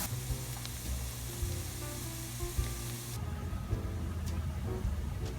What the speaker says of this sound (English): Now we're going to throw our shallots and our garlic in the same skillet